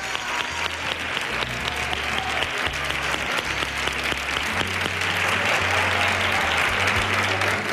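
Studio audience at a televised gala show claps continuously, a dense, loud wash of applause with a low musical hum underneath that holds steady and swells slightly toward the end.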